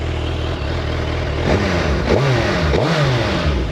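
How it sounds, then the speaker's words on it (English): Suzuki Hayabusa 1340cc Special Edition motorcycle engine revved from a steady idle, loud and close, in three quick rising-and-falling throttle blips. "Shall we rev it a little bit?"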